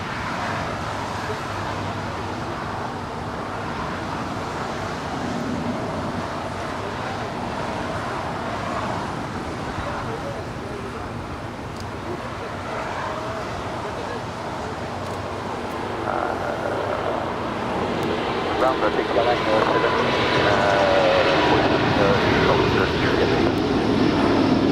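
An SAS Airbus A350-900 rolls down runway 25 right at LAX on takeoff, its engine roar heard from a distance and swelling louder toward the end over steady background traffic hum.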